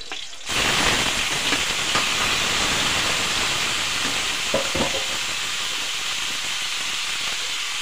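Octopus frying with onion in a hot pan for adobo makes a loud, steady, dense sizzle that starts abruptly and continues unbroken, close up, with faint clinks.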